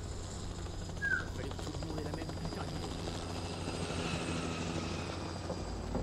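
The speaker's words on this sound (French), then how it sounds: "Le hélicoptère." Helicopter rotor and engine drone in The Last of Us, a steady churning wash that holds for the whole stretch with a brief sharper sound near the start.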